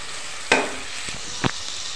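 Garlic fries in a pan with a low, steady sizzle, broken by two short scraping stirs close by and no voices over it.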